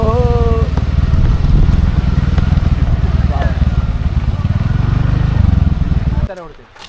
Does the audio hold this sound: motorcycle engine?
yes